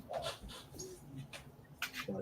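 A dog whimpers and whines in short, high-pitched bursts indoors, with light panting between them and people talking over and around the sounds.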